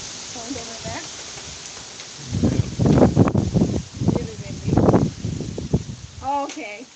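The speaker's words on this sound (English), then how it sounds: "We're just watching the rain right now." Rain falling outside with wind blowing through trees, a soft hiss of rainfall that swells in bursts, heard under people talking nearby.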